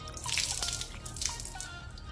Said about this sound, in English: Rinse it off with a little distilled water.